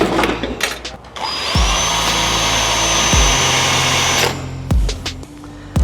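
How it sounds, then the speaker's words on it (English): A loud power drill whines steadily as it bores a hole for fuel system auxiliary lines, with a few short bursts and pauses, close up. "All right, let's drill a hole."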